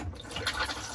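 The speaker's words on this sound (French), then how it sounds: "Et ici donc nous avons la chasse d'eau" A Thetford cassette toilet flushes, a soft, close rush of water running steadily for about a second with light splashing.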